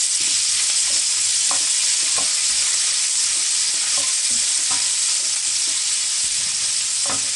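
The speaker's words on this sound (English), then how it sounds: "I'm just throwing in all these sliced onions and also sliced green chilies. Just saute this." Sliced onions and green chilies sizzle steadily in hot oil, a continuous bright frying hiss with soft spatula scrapes and stirs every second or so, close and fairly loud, no voices.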